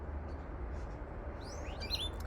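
Lorikeets perched up in a garden fruit tree give a few short, faint chirps and squeaky calls late in the moment, over a low steady rumble of background noise.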